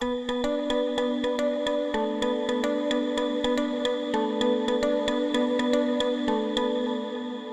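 A bright synthesizer riff from a Mini Freak VST filter preset repeats plucky, evenly spaced notes over a sustained tone, steady and loud with no voices.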